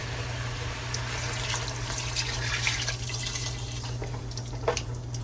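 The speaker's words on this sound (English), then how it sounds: "Add some more water at the same time." Water pours steadily into a pot of Jamaican stew peas cooking with pigtail and garlic, a continuous running, splashing wash that holds for several seconds with a few brighter splashes near the end.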